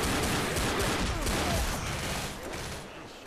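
Uzi fire in the zombie shooter Left 4 Dead: a dense, continuous automatic roar that holds steady for about three seconds with a light mechanical rattle, easing slightly toward the end.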